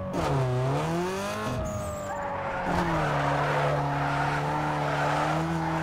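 A car drifts in Need for Speed Underground 2, its tires squealing in long, wavering tones over a steady engine drone, continuous and close.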